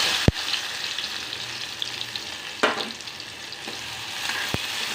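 A constant close hiss of finely chopped onion frying in hot oil, with a few sharp clicks and scrapes of a spoon stirring the pan.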